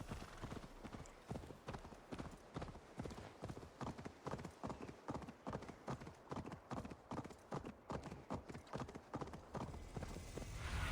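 A horse trots in Assassin's Creed Valhalla, its hooves clip-clopping in a fast, even rhythm that runs steadily for about ten seconds, close and prominent.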